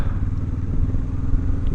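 A 2024 Kawasaki NX500 is being ridden, its engine giving a steady, close rumble mixed with wind buffeting.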